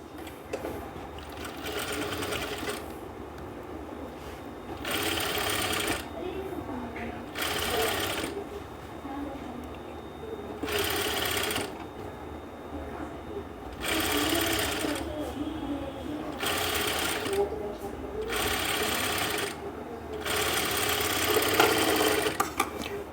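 A sewing machine stitches salwar fabric in repeated close bursts of rapid mechanical chatter separated by short pauses, with quieter handling sounds between runs.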